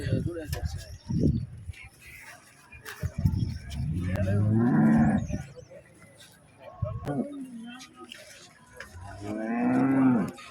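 Several cows moo in long, loud, low calls, with pauses between them and some background chatter nearby.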